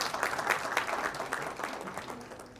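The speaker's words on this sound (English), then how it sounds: "Let's have a huge round of applause while we welcome Mr." An audience at a TiECON event on AI-powered digital marketing applauds to welcome a speaker onto the stage, with moderate, steady clapping from a crowd that gradually tapers.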